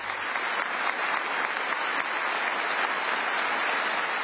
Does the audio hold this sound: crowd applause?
yes